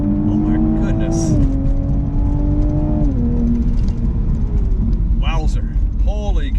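A 2020 Toyota GR Supra Gazoo Racing Edition engine accelerates hard, its tone climbing through gear changes with a loud, close drone, and brief exclamations break in near the end.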